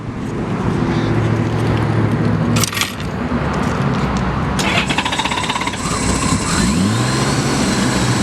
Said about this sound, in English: I'm going to go ahead and start it up.